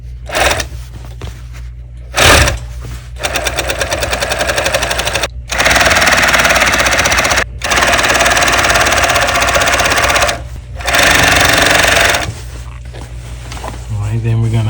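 An industrial sewing machine stitches a denim jeans leg in several rapid bursts of rattling, machine-gun-like stitching separated by short pauses, loud and close.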